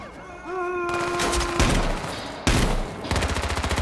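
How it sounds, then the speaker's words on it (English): Rapid bursts of gunfire in the video game H1Z1, several volleys crackling loudly over an engine-like drone, with a tonal wail early on and dense repeated shots toward the end. "They're shooting at people."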